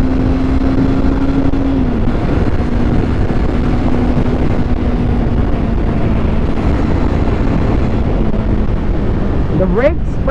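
A 2024 Kawasaki Eliminator 450 cruiser motorcycle rides along with a steady engine hum under heavy wind rush, the rider talking throughout, and a rising rev near the end.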